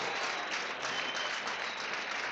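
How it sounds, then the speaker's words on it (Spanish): A church congregation applauds during a Spanish-language sermon, a dense, continuous wash of many hands clapping together, moderately loud and unbroken for the whole stretch. "Dale un aplauso al Señor."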